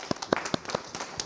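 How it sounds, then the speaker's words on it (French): An audience applauding at a school ceremony for Yennenga Formation, with a few distinct, fairly loud claps in an irregular rhythm over a noisy room, plus brief voices. "Yenega Formation, vous pouvez vous applaudir."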